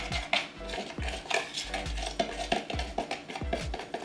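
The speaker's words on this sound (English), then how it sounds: "you already have a butter knife to stir it with" A butter knife stirs seasonings in a dish during vegan, gluten-free home cooking, making repeated close scraping and clinking strokes against the container in an uneven rhythm.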